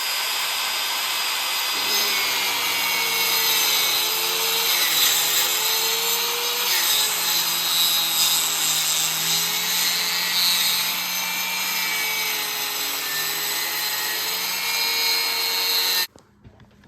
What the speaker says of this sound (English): So let's see if we can just flip it over for now and cut it all the way through.